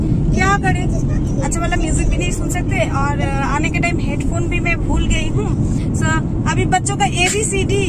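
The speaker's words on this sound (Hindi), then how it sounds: "आप सुन सकते हो कि हम लोग गाड़ी में बैठे हुए हैं" Steady low road rumble and engine drone inside a moving car fill the background throughout, loud and constant, while someone talks over it and a children's song plays faintly.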